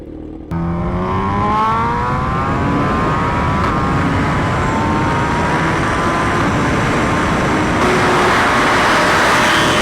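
A newer-generation Suzuki Hayabusa motorcycle engine pulls loud and close, its pitch climbing steadily as it accelerates and then holding a sustained high drone, with no talking.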